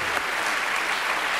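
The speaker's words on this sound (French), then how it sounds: "Applaudissements, merci." A concert audience claps in a dense, continuous burst of applause, close and steady, with no voices standing out.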